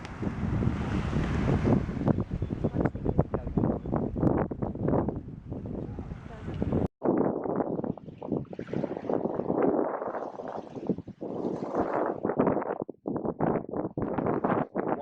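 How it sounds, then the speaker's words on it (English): Wind buffets the microphone and waves wash in the background at Agios Ioannis Beach, Mykonos, Greece, while a person talks over most of it. "So we are now here at Aios Yannis Beach here in Mykonos."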